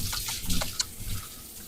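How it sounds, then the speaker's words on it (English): Tap water runs steadily at a sink as hands are washed under it, a soft, faint splashing with small brief clinks, heard alone without voices. "And I am washing my hands after I just fed him"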